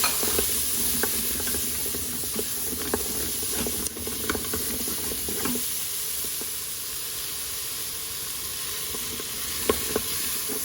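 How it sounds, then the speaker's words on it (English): Potatoes sautéing in an Instant Pot for lentil soup, giving a steady close sizzle with a few scattered clicks and stirring knocks, no voices. "go ahead and add the potatoes, and then saute them"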